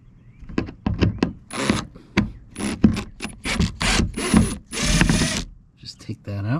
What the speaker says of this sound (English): Underneath here, there's a Phillips head screw.